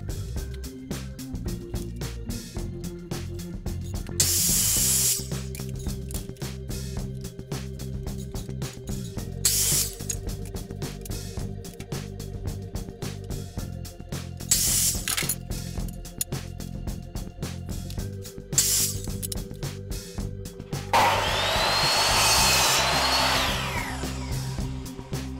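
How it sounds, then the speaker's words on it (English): A miter saw cuts wooden boards to length for a hat rack, several short whining bursts and one longer cut rising over a steady background hum. "we're going to do that on the miter saw"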